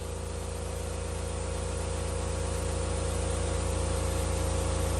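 An air compressor drones steadily while it fills, a continuous mechanical hum with a low pulsing throb that stays even and unbroken for the whole stretch, with no talk over it.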